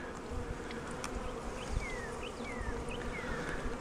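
Honey bees from a package buzz in a dense, steady swarm around a queen cage, with a few individual bees whining past close by over the continuous drone.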